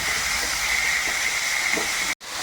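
Boiled taro hits hot oil in a kadai already seasoned with fenugreek seeds, and a loud, steady, close sizzle hisses continuously before cutting off abruptly near the end.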